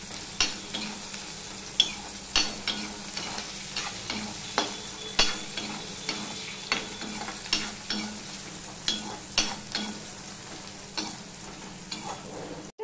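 Slit green chillies fry with onion in hot oil in a pan, with a soft constant sizzle and regular scraping stirs about once a second, close and clear.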